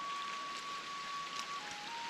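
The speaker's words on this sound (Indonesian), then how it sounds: "Curah hujan yang sudah mulai berkurang" Steady rain falls in a forest near a village in West Sumatra, a soft continuous hiss without breaks, joined by a faint thin tone.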